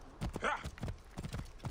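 Horse hooves walk over rocky desert ground, a close, uneven clip-clop of several steps at a steady walking pace, fairly quiet.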